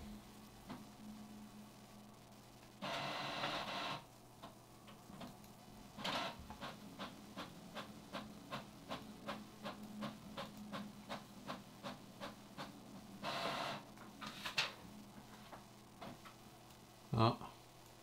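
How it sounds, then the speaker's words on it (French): An Epson ET4850 inkjet printer runs a test page: whirring feed bursts, then a fast, regular train of ticking print-head passes, more whirring and a final clunk, fairly faint and close in a quiet room. "Imprimer une page de test."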